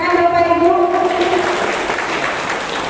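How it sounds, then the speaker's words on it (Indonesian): Applause from the audience at an installation ceremony for a family association's officers in Batam, a sustained wash of clapping after some sustained tones fade, holding steady to the end. "Kita berikan tepuk tangan Bapak Ibu"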